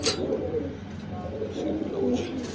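A nesting pigeon pair sitting on their eggs gives soft, low cooing close by, a continuous murmuring burble with a faint higher chirp near the end.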